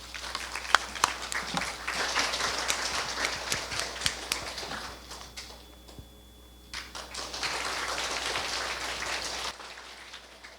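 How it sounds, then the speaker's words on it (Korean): An audience at a Korea University guest lecture claps to welcome the speaker, a moderate, scattered patter of hands that eases off midway, picks up again, then stops abruptly. "뜨거운 박수로 환영해 주시기 바랍니다."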